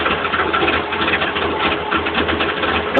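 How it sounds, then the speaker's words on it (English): A Datsun Z engine fitted with a Holley 4-barrel carburetor runs steadily and loudly up close, a continuous rough mechanical drone with no pauses. "Cranks right up."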